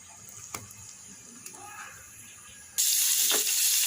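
Eggplant slices coated in turmeric and salt frying in a home kitchen pan: faint quiet sizzling and a few light clinks, then a sudden loud, bright sizzle as more slices hit the hot oil.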